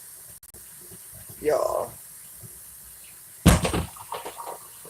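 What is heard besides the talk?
pouring flour and water mixture into beans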